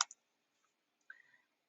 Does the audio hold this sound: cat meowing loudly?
no